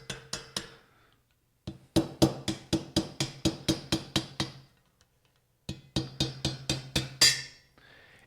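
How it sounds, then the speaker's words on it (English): A hammer drives a non-marring punch through a stiff part of a Ruger SFAR rifle, with sharp, evenly spaced metallic taps in three quick bursts separated by short pauses, close and crisp. "I want a non-marring punch in my hammer, and I'm just going to drive this forward."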